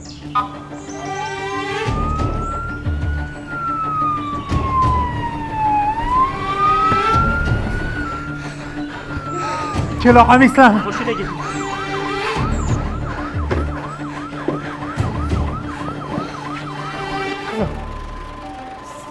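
An ambulance siren wails up and down, close and loud, then switches to a faster yelp pattern over traffic noise, while people talk briefly.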